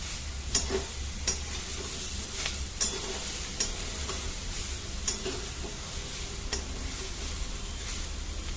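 Greens with lentil dumplings frying in a pan make a quiet, steady sizzle, with a spoon scraping and clicking against the pan every second or so as it stirs.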